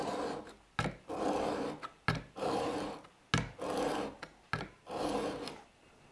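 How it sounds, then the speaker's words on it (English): A steel chisel is rubbed on diamond sharpening stones, making repeated rasping strokes, about five long scrapes separated by short clicks as the tool is lifted and set down again, close and clear with no talk. "I'm just going to take this and go to the diamond stones and worry about the front edge of it"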